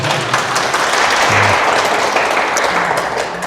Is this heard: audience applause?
yes